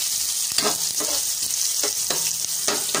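Sliced ginger frying in a hot smoking pan for pork sinigang with jackfruit, a steady bright sizzle with several scraping stir strokes, close and loud, no voices.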